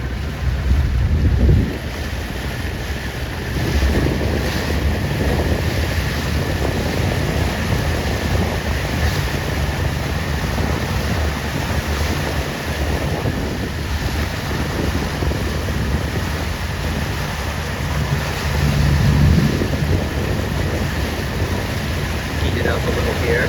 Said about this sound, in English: The wind is coming really nice right here.